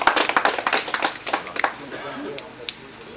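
Spectators at a hunting hound pack contest applaud the dog handlers in a brief burst of close, scattered claps that die away quickly while a voice talks underneath.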